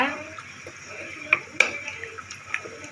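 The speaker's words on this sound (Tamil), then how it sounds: "தக்காளி தெரியாத அளவுக்கு நல்லா கடைஞ்சிக்கோங்க." A wooden masher crushes tomatoes in a pot while making tomato chutney, giving scattered soft knocks and scrapes with a couple of sharper clacks against the pot, close and fairly quiet.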